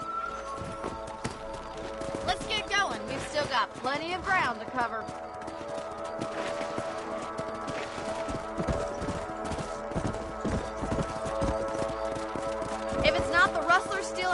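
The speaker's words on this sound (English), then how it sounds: "Let's get back on the horses and see what else is going on." Horse hooves clip-clop at a steady trot in the Red Dead Redemption video game, a continuous rhythmic clatter of close hoofbeats running the whole stretch while someone talks over it.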